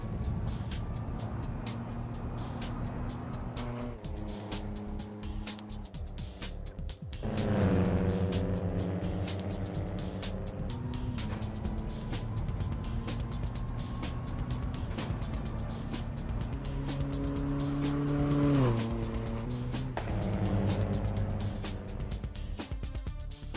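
A 1995 Toyota Corolla WRC rally car in Assetto Corsa drives with a loud, continuous engine note, revving through gear changes with rising and falling pitch and a sharp surge near the middle, with no talk over it.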